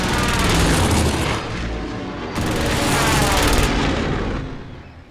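Heavy gunfire and booming blasts in the video game Call of Duty: Modern Warfare, loud and dense, sustained with one sharp new burst midway before fading out.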